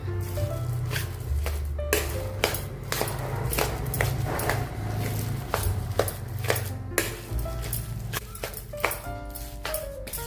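Wheat flour stuffing is stirred and mixed with salt in a bowl, giving soft squishy and scraping sounds with sharp clinks of a utensil, close and fairly quiet.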